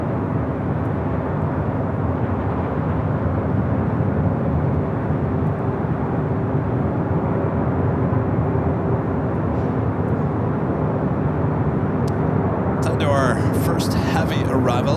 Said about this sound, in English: 757-200 in the Star Alliance livery, taking off 25 right.